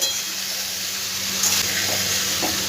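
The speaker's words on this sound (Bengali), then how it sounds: "এবার আমি এর মধ্যে করলা ভাজাগুলো, করলা বলো বা উচ্ছে বলো, ভাজাগুলো আমি সব দিয়ে দিচ্ছি। একটু ভালো করে নাড়াচাড়া করে" Fried bitter gourd pieces are stirred into a spice paste in a hot pan, giving a steady close sizzle with faint scraping of the spatula and a few soft clinks.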